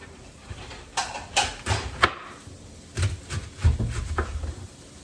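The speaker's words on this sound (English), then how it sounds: "I am going to wash this, but I'm chopping it first." Cabbage is chopped into bite-sized pieces on a board, a series of close knife thuds in uneven clusters, some sharper than others.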